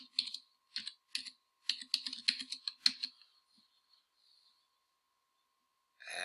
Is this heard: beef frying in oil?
no